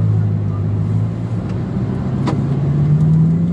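Bugatti Chiron pulling away gently from a stop, a smooth low engine hum with a soft, slowly rising tone and a brief faint click partway through, close by and fairly quiet, with someone speaking over it.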